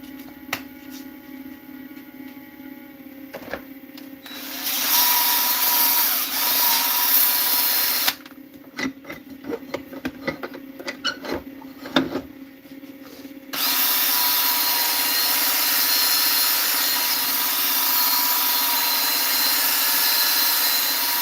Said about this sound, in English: We'll start with the drill, because I know everybody likes when I do that.